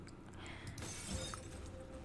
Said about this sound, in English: The three of us are alarmed by the loud shattering of glass falling on the floor.